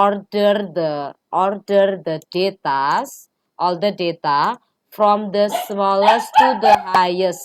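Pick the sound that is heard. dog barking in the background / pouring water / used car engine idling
dog barking in the background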